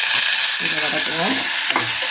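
Onion frying in a pan of hot oil with mustard seeds and cinnamon for a white peas kurma, a steady close sizzle and crackle running the whole time with no one talking.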